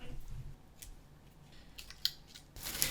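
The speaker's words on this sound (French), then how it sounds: "J'ai des ciseaux." Scissors snip a few times at close range, with quick crisp cuts near the end against a quiet indoor background.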